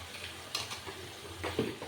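Ground spices — Kashmiri chilli powder, cumin and coriander powder — frying in a pan for Assamese soybean curry, a soft steady sizzle with a few louder stirring scrapes, close and quiet, no talking.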